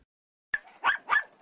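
A few short, faint barks from dogs seized in a dog-hoarding case, three quick yips in a row after a moment of silence.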